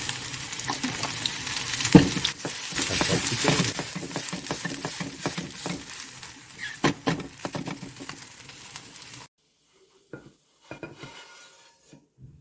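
Vegan okonomiyaki frying in oil in a pan, a dense crackling sizzle with scraping and clinks of utensils for about nine seconds, then the sizzle drops away to near silence with a few faint taps.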